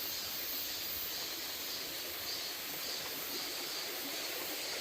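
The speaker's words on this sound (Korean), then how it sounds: "계곡 한번 볼까요? 계곡." A mountain valley stream flowing over moss-covered rocks, heard as a steady, close broadband rush of water that holds unchanged throughout without any talk.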